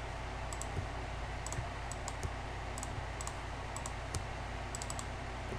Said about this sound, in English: requires a lot of fast clicking to get this off properly